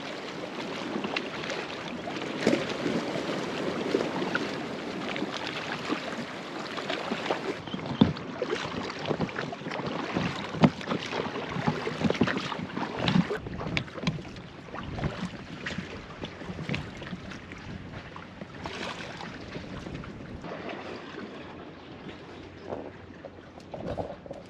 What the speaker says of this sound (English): I'm just gonna row ashore